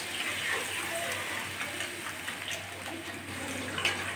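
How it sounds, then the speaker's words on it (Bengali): Water poured in one go into a pan of frying lentils and onions, a steady hissing, gushing splash at close range that runs evenly without pause. "এবার আমি যে জলটা লাগবে, আমি তো এক সোমবারে রান্না করছি, আর জল দেবো না, একবারেই দিয়ে দিচ্ছি।"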